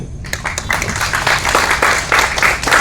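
Audience applause at a Tamil film review event for the movie Hit List, many hands clapping steadily and densely throughout, filling the room at close range with no voices.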